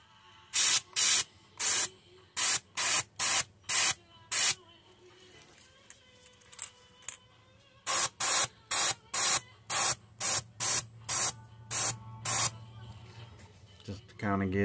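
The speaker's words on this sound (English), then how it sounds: "And we just spritz a little silver back on that top part of that gill" Short bursts of silver spray paint from an airbrush hitting a fishing lure's gill plate during a perch paint pattern, two rapid runs of hissing pulses split by a quiet gap, close and loud.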